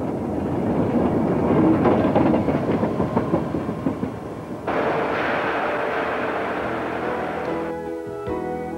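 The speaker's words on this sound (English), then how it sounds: "The loaded muck train speeds to the shaft where it is dumped." A loaded muck train rumbles along rails in the English Channel Tunnel, a loud continuous roar with rhythmic clatter that shifts in tone partway through.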